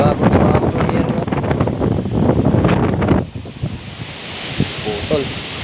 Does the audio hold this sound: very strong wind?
yes